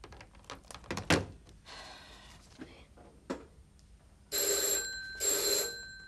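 Telephone ringing in an Egyptian comedy series, two sustained electronic bell bursts near the end after a few knocks and thumps, fairly clear with no talk over them.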